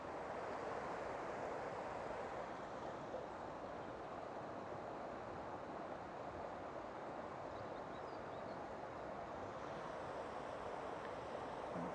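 Water pours over a garden weir in a continuous, even rushing roar that stays steady and fairly soft throughout, with no voices.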